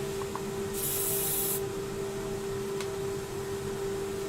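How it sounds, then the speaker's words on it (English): An aerosol spray can gives one steady hiss of under a second onto a worm-holed wood piece on a lathe that has just had glue put in its holes, with a constant motor hum running throughout. "Give it a little spray."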